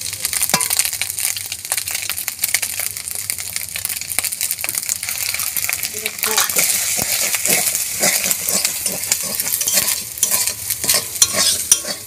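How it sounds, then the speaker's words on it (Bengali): Egg frying in a pan of Bengali-style fried rice while a spatula stirs and scrapes, bursts of sizzle and clinking metal scraping in an irregular rhythm, close and clear with no talking. "এবার ডিম ভাজাটা এর মধ্যে ডিম দিয়ে ভেজে নেব।"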